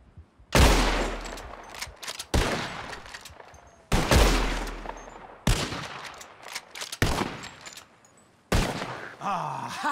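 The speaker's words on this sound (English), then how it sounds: "First one to hit 4 flying birds wins." Repeated gunshots at birds taking flight in Red Dead Redemption II: six loud, cracking reports in quick succession over ten seconds, each ringing out with a short echo in an open outdoor setting.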